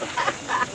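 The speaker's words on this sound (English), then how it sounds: "Shelly, there's a goose over there." Two short honking calls from a goose out in the open, spaced about a third of a second apart and fairly close.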